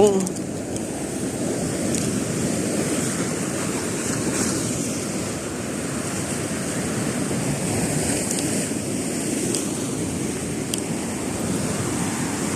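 Sea waves roll onto a beach in a steady, loud wash of surf, with wind buffeting the microphone throughout the whole stretch.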